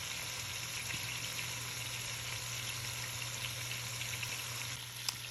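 Chicken for chicken adobo sears in a pot. A steady, close hiss of frying carries on without a break and ends in a small clink near the end.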